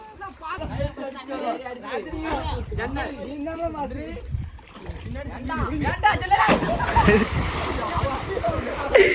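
Water splashes and sloshes as people bathe at a village well, with loud chatter and voices over it and a heavier rush of splashing near the end.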